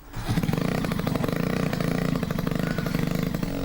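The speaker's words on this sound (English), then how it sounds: "who's worked up a special motor that goes on his back to help him fly" A small engine strapped to a man's back for powered flight, rated at 100 horsepower, runs steadily and loudly with a rough, buzzing chainsaw-like rasp, close and unbroken throughout.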